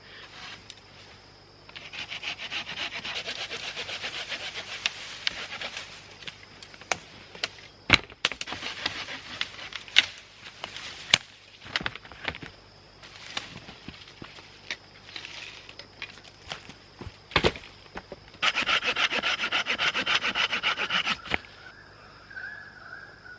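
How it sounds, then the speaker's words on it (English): Firewood sawn by hand with a handsaw at an Australian bush campsite, with long stretches of rhythmic rasping strokes broken by knocks and clunks of wood, close and fairly loud, no voices. "that's actually really hard work cutting firewood with a handsaw"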